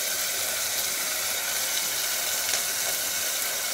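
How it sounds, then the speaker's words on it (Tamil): Mustard seeds and urad dal spluttering in hot oil, a steady, close, bright sizzle with scattered tiny pops throughout, and no voices over it. "கடுகு உளுத்தம் பருப்பு பொரிஞ்சிருச்சு"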